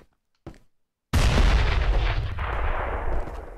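A grenade goes off in a multiplayer shooter: a brief faint knock, a pause, then a sudden loud broadband blast with a deep booming body that rumbles and rolls on for over two seconds.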